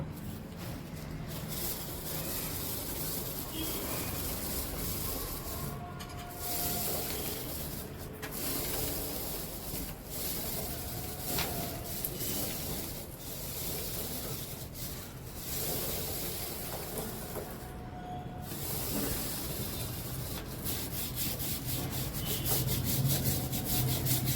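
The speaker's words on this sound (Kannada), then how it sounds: "ಬನ್ನಿ ಬ್ರಷ್ ಮಾಡೋಣ ಈಗ" Stiff brush scrubbing a dirty bike during maintenance, steady rasping strokes repeated close up for the whole stretch, with a few short pauses between passes.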